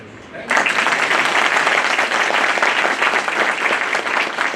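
An audience at a ceremony enrolling new advocates breaks into loud, sustained applause that starts abruptly and keeps a steady, dense clatter of many hands until the end.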